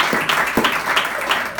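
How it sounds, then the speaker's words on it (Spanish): A church congregation at a Sunday service claps to welcome a guest, a loose, uneven round of applause with a few sharper claps standing out. "Lo saludamos con un aplauso."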